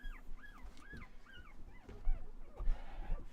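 Two-day-old puppies whimper in rising and falling high squeals, with a few yips and small barks mixed in, close by and fairly soft.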